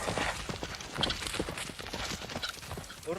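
Horse hooves clip-clop at a steady walking pace close by, a busy layer of knocking steps running through the whole stretch with no talk.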